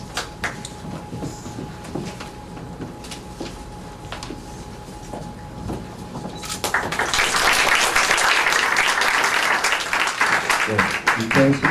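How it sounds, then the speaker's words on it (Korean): Applause breaks out at a graduation ceremony for trainee missionaries, starting loud and sustained after a stretch of quieter room noise with scattered sounds. "우리 박수로"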